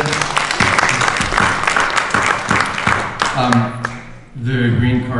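Audience clapping at a film premiere Q&A, a ragged round of applause from a seated crowd that thins out and gives way to a voice speaking at the end.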